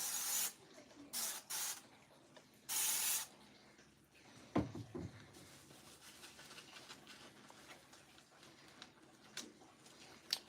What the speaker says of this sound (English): Spray her with some of this soap.